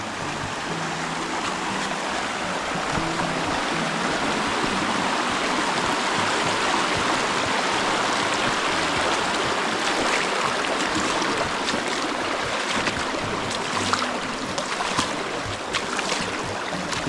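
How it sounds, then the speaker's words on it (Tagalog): A creek in a Batangas village flows steadily, with a dense, continuous rush of water heard nearby at a constant loudness and no talking. "Yan po yung sapa natin, oh."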